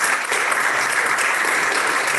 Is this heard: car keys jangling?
no